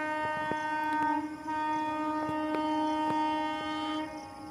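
The Chhattisgarh Express, running over eight hours late, departs Muzaffarnagar station; a steady rumble of moving rail cars sits under a sustained tonal horn, with light rhythmic clunks recurring throughout, moderately loud and without talk.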